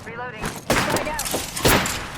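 A frag grenade in a video game goes off in two heavy bursts of crackling, booming blast, loud and close, with players' voices over the action.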